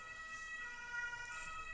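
A distant ambulance siren in a town, faint and steady across a short moment, holding a sustained wailing tone over quiet background.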